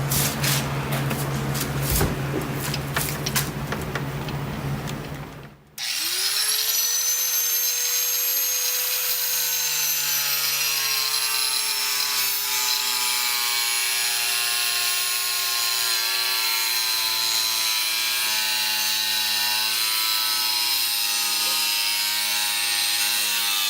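An angle grinder trims a steel motorcycle headlight mount, first a rough broadband grinding burst, then a steady high-pitched whine that spins on continuously and loudly.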